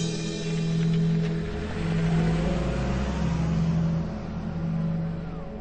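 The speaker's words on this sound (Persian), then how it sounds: "از عقب خانه برآمده رفتن ماشین ترکان خانم رو دیدم" A car pulls away from behind a house, its engine humming steadily and rising and falling in a low drone for several seconds, fairly close and with no voices.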